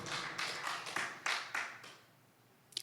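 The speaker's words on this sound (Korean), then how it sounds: "하나님께 영광의 박수." Worshippers at a Korean church's Sunday service in Anaheim clap in praise to God, a handful of bright, rhythmic rounds of clapping that soon fade to quiet, with a sharp burst returning at the very end.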